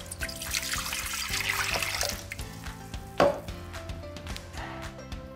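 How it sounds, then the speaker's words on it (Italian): Water pours and trickles into a Thermomix bowl in a steady, fairly soft stream, with a short sharp clunk near the middle. "versate nel boccale tutta l'acqua."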